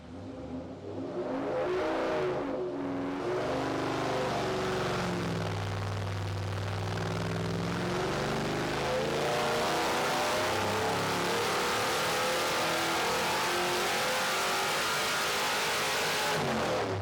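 6.4 HEMI V8 on a dyno for a stock baseline pull, revving up from idle through a long rising wide-open sweep, loud and sustained with a roaring exhaust tone, no speech.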